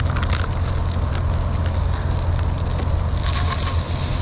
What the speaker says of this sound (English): we're gonna add the rice, which is already cooked pretty much. You just gotta saute it down.